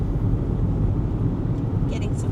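Steady low road roar from inside a car cruising on a motorway toward the Gold Coast, a constant hum of tyres and engine that continues under talk.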